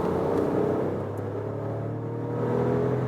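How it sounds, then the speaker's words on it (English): A Skoda Kamiq small SUV with a 1.0 TSI three-cylinder engine pulling away onto a motorway from 50 km/h, a steady, loud in-cabin engine drone and road rumble that swells gently without a break. "Show you a little bit more when accelerating out to the motorway here."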